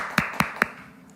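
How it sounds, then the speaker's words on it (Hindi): Three sharp, evenly spaced hand claps ring out close by, then fade into quiet room tone, as applause begins in welcome of the prophet at a church prayer meeting with Prophet Bajinder Singh. "तो जोरदार तालियों से प्रॉफिट जी का स्वागत करेंगे"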